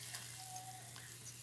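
Stone-ground masala stirred into boiling hotel-style radish sambar gives a soft, steady bubbling sizzle with a faint low hum underneath, quiet and continuous with no talking.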